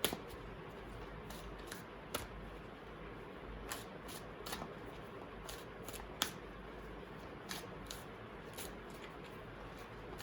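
Oracle cards shuffled by hand in faint, close riffles and soft slaps, with scattered sharper card snaps over a quiet room background.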